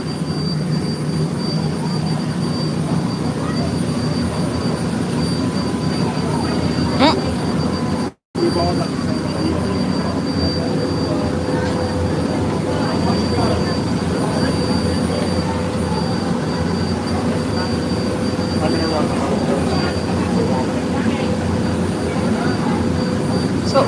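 A boat engine drones steadily on the ride to Tom Sawyer Island at Walt Disney World's Magic Kingdom, heard from right beside the engine as a loud, continuous low rumble with one brief dropout.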